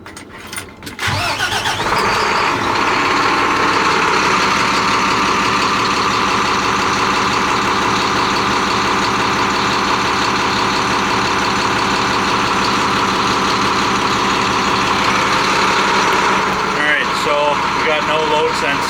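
Diesel engine of an articulated rock truck cranking briefly, catching, then settling into a loud, steady close-up idle that runs on alone.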